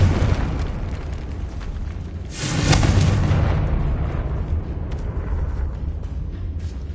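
A Confringo fire spell blast in the Hogwarts Legacy video game bursts out as one loud explosive boom partway through, over a dense rumbling backdrop of game noise that lingers and slowly fades.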